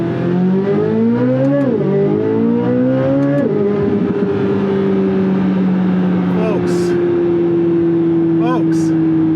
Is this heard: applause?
no